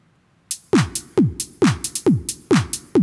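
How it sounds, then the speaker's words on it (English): A sampled handclap played back through the Web Audio API repeats in a steady dance-beat loop, sharp bright claps alternating with deep thumping kick hits, loud and close after a short silence. "The clap is something we just got using this fetch thing here, and it's the sound of a clap."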